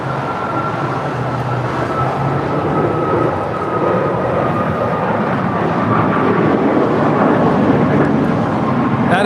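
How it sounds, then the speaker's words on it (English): An Air Canada Boeing 737 MAX 8, three years old, departing LAX for Vancouver: a steady, loud broadband jet roar with a sustained whine, building slightly over about nine seconds with no talk. "That is a 3-year-old 737 MAX 8 now departing to Vancouver"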